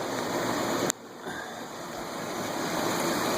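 Water rushes through home central heating pipes driven by a 3,500-gallon-per-hour pump, a steady broadband whoosh with a faint motor hum and one brief click near the start.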